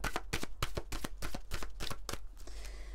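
Tarot cards are handled and drawn close up in a quick run of crisp slaps and riffles, about a dozen in an uneven rhythm, easing off at the end.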